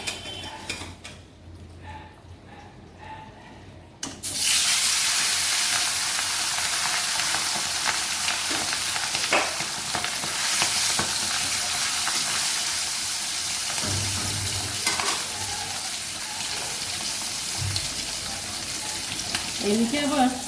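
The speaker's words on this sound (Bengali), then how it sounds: "তেলটা গরম হয়ে গেছে, মাছ ছেড়ে দেবো।" Fish sizzles loudly in hot oil after being slid into the pan, a steady broadband crackle with occasional utensil clinks, following a few quieter seconds before the fish goes in.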